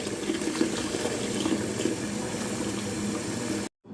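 Fresh coriander is rinsed under a running kitchen tap, giving a steady close rush of water that cuts off abruptly near the end, with no talk.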